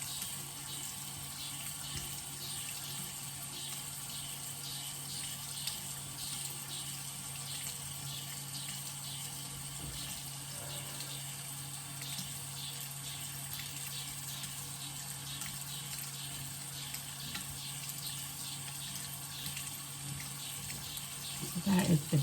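A tap runs steadily during face washing, a faint, even stream of water with soft intermittent splashes and a low background hum, with no speech.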